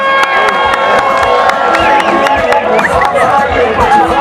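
A large crowd cheers and claps to welcome team Great Britain at a UCI cycling event, with a loud, continuous roar of applause, whistles and shouting close by and voices mixed in.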